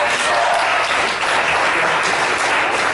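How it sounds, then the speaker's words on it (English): A studio audience breaks into dense, loud, continuous applause during a podcast interview with a Disney animator, a steady wash of clapping with no pauses. "Let's give Philo a big round of applause for his recent marriage."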